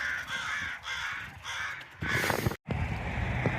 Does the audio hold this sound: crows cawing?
yes